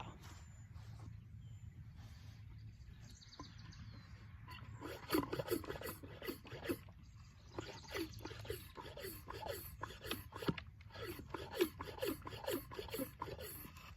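A brush scrubs an old headstone during restoration, quiet rasping strokes in a quick, uneven rhythm that grow busier partway through, close but faint against a soft outdoor background.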